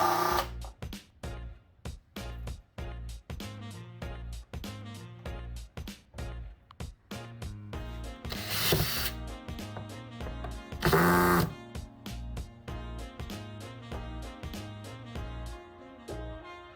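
A power driver sets 1.25 inch wood screws to join pieces of a wooden noodle board, giving close, stuttering bursts of whirring with clicking pulses and two longer, harsher grinding runs near the end.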